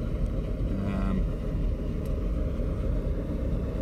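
A Mercruiser 5-litre V8 boat engine on a Bayliner Capri runs steadily at idle at operating temperature, a dense, low rumbling drone that holds constant throughout at close range.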